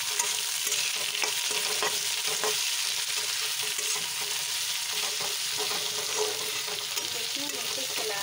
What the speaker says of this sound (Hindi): प्याज को हम डाल दिए हैं और इसे चलाते रहेंगे।